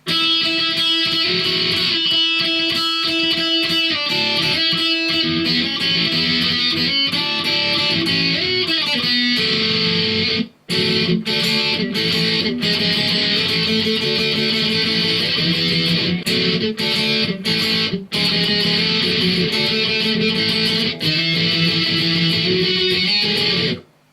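Loud electric guitar solo over a full band, sustained melodic lines and bends with brief breaks, continuous for about twenty seconds.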